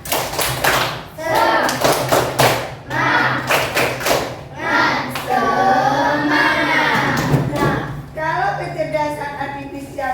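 An audience claps in a quick rhythmic burst, mixed with loud thumps and voices chanting and talking over the clapping in a room.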